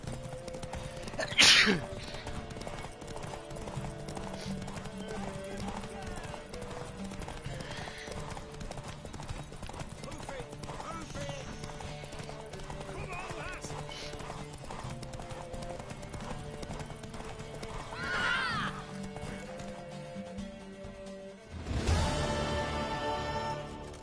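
A horse's hooves clip-clop steadily over ground in The Witcher 3, with a brief snort near the start and a louder burst near the end, all under a continuous game ambience.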